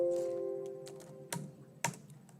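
A few crisp keystrokes tap on a computer keyboard while working in Marg chemist software, spaced out over a faint lingering tone, with one or two sharper clicks standing out near the end.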